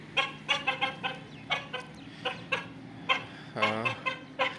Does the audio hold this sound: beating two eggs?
no